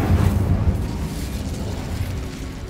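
The Bombarda blasting spell in Hogwarts Legacy goes off as a loud, low booming explosion that hits hard at the start and then rumbles and fades.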